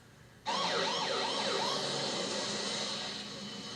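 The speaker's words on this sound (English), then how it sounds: "Within 5 minutes of the call, a Clayton County Fire Med unit arrived" An ambulance siren from a Clayton County Fire Med unit wails loud and close with a repeating sweeping tone. It starts abruptly and holds steady, easing slightly toward the end.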